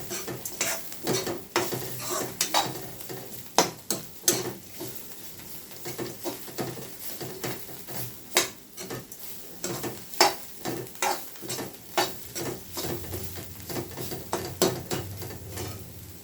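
Sliced bitter gourd fries over low heat in a pan under a soft sizzle, while a spatula scrapes and clinks against the metal in frequent irregular strokes.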